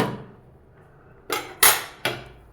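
A metal lid set onto a pot of tomato rice with ghee, three sharp close clanks in quick succession following a quieter handling sound, each clank ringing briefly.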